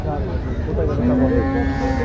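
A bull calf moos once, a drawn-out low call, over a busy background of voices and livestock noise at a cattle market.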